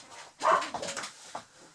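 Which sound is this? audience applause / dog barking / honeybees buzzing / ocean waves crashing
dog barking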